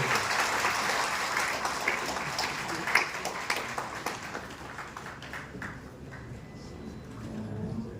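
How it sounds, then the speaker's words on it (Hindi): An audience at a national conference gives sustained, dense applause that slowly thins and fades toward the end, heard from within the hall. "जोरदार तालियां होना चाहिए।"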